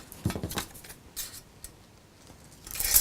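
Scissors snipping through folded paper in a few quick crisp cuts, close, with a louder rustle of the material being handled at the end and no talking.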